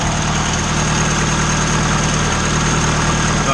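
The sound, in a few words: Honda Integra engine idling with cylinder head rattle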